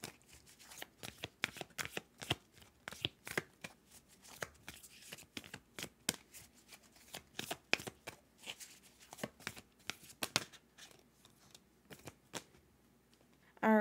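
A deck of oracle cards being shuffled by hand, with a steady stream of crisp riffling and slapping card sounds, close and fairly soft, with no talking.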